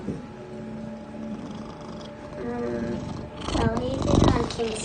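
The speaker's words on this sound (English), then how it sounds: "Oh, we've got a cat here." A cat purrs and murmurs close by under people talking, the purring rising louder toward the end.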